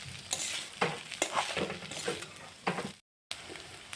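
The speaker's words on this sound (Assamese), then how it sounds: "আৰু ভালদৰে এনেদৰে লৰাই ভাজি ল'লোঁ" Chowmein noodles stir-fried and tossed in a pan, giving steady sizzling broken by scraping and stirring strokes; a short silent gap falls near the end before the frying resumes.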